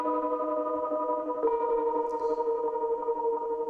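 Random sounds run through Guitar Rig processing form a sustained, layered tonal soundscape of steady droning harmonics, with a soft swell near the midpoint and a faint high shimmer, holding evenly throughout.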